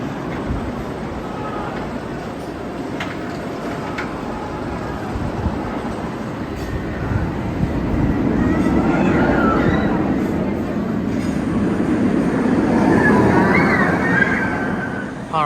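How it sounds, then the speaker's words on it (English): Batman The Ride, the first B&M inverted roller coaster, at Six Flags Great America, running as a steady rumbling roar of track and train that swells louder midway, with rushing wind throughout and no talk. "Now here we go on Batman the Ride."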